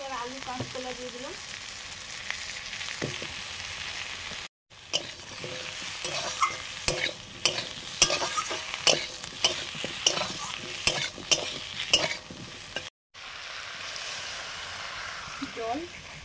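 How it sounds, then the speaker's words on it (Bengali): Potato and green plantain frying in a pan of spiced oil with turmeric and salt, stirred with a utensil: steady close sizzle under frequent scraping clatters across the whole stretch, with two brief dropouts. "এবার আলু কাঁচকলা দিয়ে দিলাম।"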